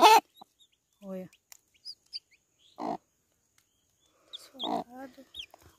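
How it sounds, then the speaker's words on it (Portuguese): On a rural homestead, a hen clucks near her chicks, giving short throaty calls and a few faint high peeps between bursts of someone speaking close by. "Eu vou fazer um ninho aqui do lado pra essa galinha, pra ela não perder esses pintinhos"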